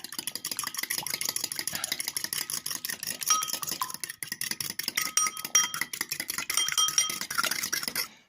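An egg is whisked in a bowl, making a fast, steady, light clinking and tapping of utensil against the bowl that continues evenly throughout at moderate volume.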